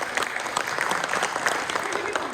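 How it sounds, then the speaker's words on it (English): An audience at an arts-center event breaks into dense, steady applause, many hands clapping together at an even level for the whole stretch, with no voices standing out. "Big round of applause for Beth"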